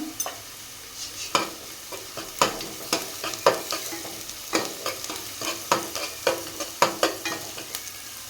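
Onions frying with ginger garlic paste while a spoon stirs them, giving a regular run of sharp scraping strokes over a constant sizzle, close up and fairly loud with no voices.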